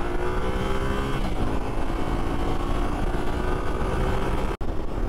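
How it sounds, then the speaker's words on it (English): A Yamaha Tenere 700 motorcycle accelerating on the road, its engine note loud, steady and close throughout, with a brief sharp dropout near the end and no voices. "So let's see how this bike picks up."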